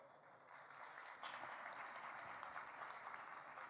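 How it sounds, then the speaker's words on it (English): Audience at a science and spirituality summit gives a round of applause, a soft, distant wash of many hands clapping steadily for a few seconds. "A big round of applause for Hawa Aero."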